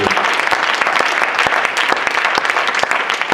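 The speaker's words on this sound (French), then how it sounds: "Pour nous applaudir pour le Seigneur." Steady applause from a conference crowd praising God, dense clapping filling the whole stretch with sharper individual claps standing out now and then.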